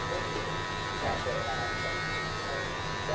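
Electric hair clippers buzz steadily and close up while cutting a drop fade, a continuous droning hum with slight shifts as the blade moves through hair, and a voice talks over it.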